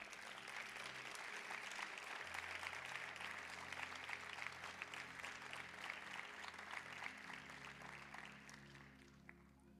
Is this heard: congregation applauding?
yes